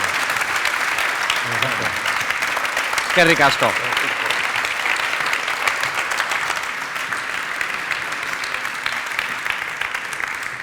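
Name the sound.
audience applause at an event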